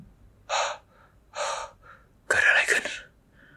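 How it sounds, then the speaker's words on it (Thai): Two sharp gasps, then a heavier, ragged intake of breath, performed as a sound effect in an audio drama set in ancient China; close, isolated and clear against silence. "ทันทีที่ได้ยินเสียงหายใจเฮือกใหญ่และสัมผัสได้ถึงชีพจรชีวิตที่ไหลเวียนกลับมา"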